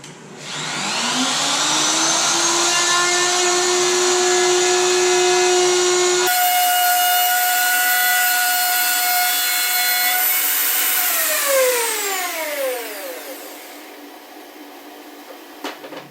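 Wood router cutting a dado with a Bora router guide: a loud, steady high whine with a pitch shift midway, then the motor spins down and fades near the end.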